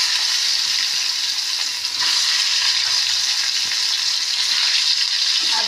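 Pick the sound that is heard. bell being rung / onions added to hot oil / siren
onions added to hot oil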